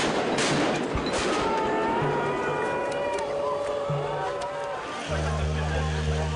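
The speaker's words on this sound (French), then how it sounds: "Les forces de l'ordre reconquièrent la place à coups de grenades lacrymogènes." Police fire tear gas grenades to clear a square during a night protest. A few sharp pops and bangs sound over a busy crowd din, with sustained horn-like tones running through it.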